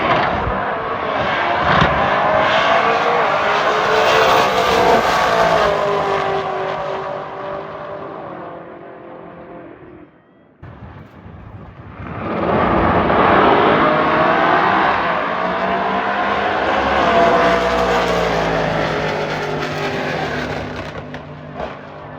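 An orange Camaro drag car in the Pro Dial Your Own category roars loudly at the track, its engine revving and holding a heavy drone, dropping out briefly midway before a second powerful surge of engine noise.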